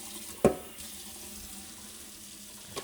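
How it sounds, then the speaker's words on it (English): Tap water runs steadily into a pot to cook 250 of rice in 500 of water, a soft, even stream at close range after a brief clunk at the start. "I'm putting 500 water for 250 rice"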